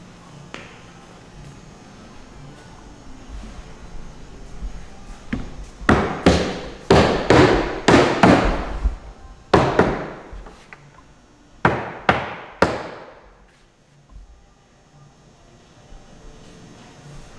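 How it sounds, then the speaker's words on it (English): A hammer taps T-molding onto the edge of an arcade cabinet, sounding as a series of sharp, close taps in short bursts with pauses between, then two more strikes before quiet. "Just weight of the hammer"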